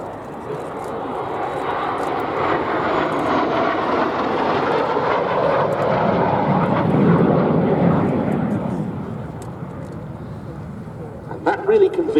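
A Jet Provost jet trainer flies at the Duxford airshow, its broad roaring engine noise swelling and fading over several seconds, while an announcer talks over the public address.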